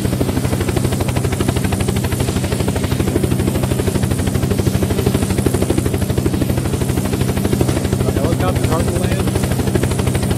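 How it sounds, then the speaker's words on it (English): A helicopter in the Unturned video game, a loud, close, rapid rotor chop and engine drone running continuously, with speech over it. "Helicopter."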